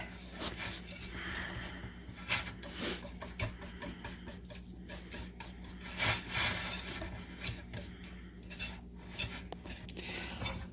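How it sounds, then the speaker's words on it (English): Yorkshire pudding batter whisked by hand in a bowl until smooth, a steady run of quick light ticking and pattering strokes of the whisk against the bowl, close and fairly quiet, with no talking. "you're just going to whisk it until it's smooth"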